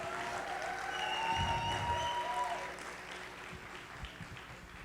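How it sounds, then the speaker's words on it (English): An audience claps at a classical Indian dance arangetram recital, a soft, diffuse wash of applause from a distance while a voice speaks over it. "So give them a huge round of applause."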